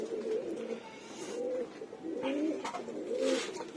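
Pigeons coo softly in repeated low, rolling phrases, fairly close, over a steady background hiss.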